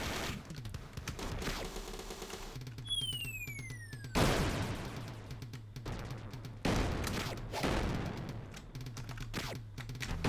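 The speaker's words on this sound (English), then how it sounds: "look, fireworks in the background" Bursts of fireworks crackle and boom in the background of the G.I. Joe arcade game, several sharp explosive volleys with whistling rises, mixed among arcade gunfire and music.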